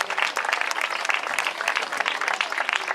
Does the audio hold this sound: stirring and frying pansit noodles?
no